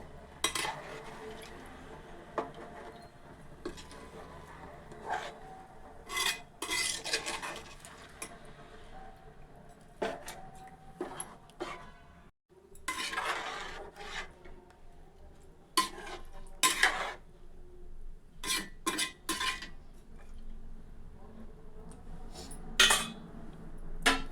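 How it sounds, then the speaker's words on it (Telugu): Small sea fish curry stirred slowly in a pot, with intermittent metallic scrapes and clinks of a spoon against the vessel, soft and close, over a low background hum; no one speaks. "చాలా స్లోగా కలుపుకుందాం చిన్న చేపలు కదండి చాలా స్లో అయితే కలుపుకోవాలి"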